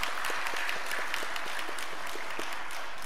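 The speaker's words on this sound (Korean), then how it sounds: "우리 큰 박수로 한번 격려해 주시면 감사하겠습니다" A church congregation claps in encouragement for the officers of its women's mission group, a soft, fairly distant patter of applause that stays even and brief.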